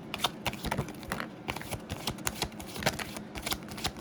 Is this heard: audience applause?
no